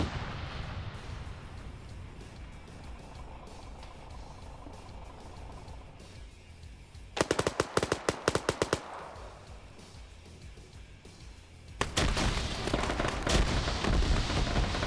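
Autocannon fire in an OFCRA PvP match of a military video game: two loud bursts of rapid heavy rounds, one mid-clip and a longer one near the end, over a low rumbling battlefield ambience.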